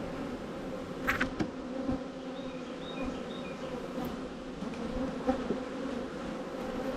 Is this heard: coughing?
no